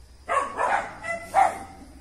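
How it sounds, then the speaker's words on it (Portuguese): A dog barks in a few short bursts near a gate at night, three or four loud yelps with brief gaps, the sound fairly close and heard without talk. "Olha esse cachorro latindo."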